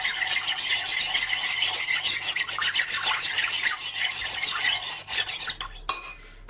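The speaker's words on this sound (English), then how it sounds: "And just give it a stir to get it to dissolve." A spoon scrapes and rubs steadily around a bowl as gelatin is stirred into a third of a cup of water to dissolve, a continuous close rasping swirl that stops near the end.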